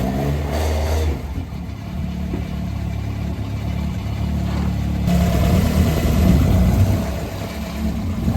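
Vauxhall C20XE engine in a Ford Escort running on a dyno, a loud steady engine drone that climbs and intensifies after the midpoint as revs rise, heard alone without talk.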